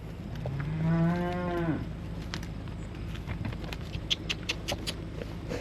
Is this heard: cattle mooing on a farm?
yes